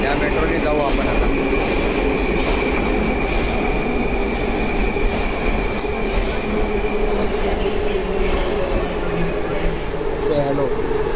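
Saint Petersburg metro train running at speed, a loud continuous rumble and roar of wheels on rails with high squealing tones, heard from inside or close by.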